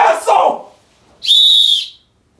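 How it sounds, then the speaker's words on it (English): A sharp whistle blast during an NFL football game broadcast, one sustained shrill tone of about half a second, loud and close, following a brief shout. "Whistle!"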